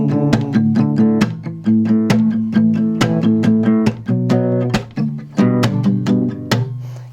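Acoustic guitar strummed in a steady pattern from U2's Beautiful Day with sharp percussive slaps on the body, a driving boom-boom-slap rhythm played close and loud.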